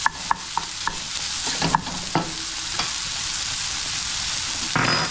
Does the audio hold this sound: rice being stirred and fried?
yes